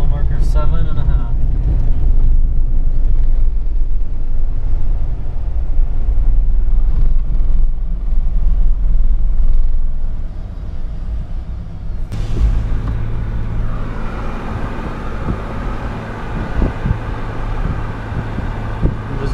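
A car driving up the road toward the summit of Mauna Kea, giving a steady engine and road rumble with wind noise, and a person speaks over it.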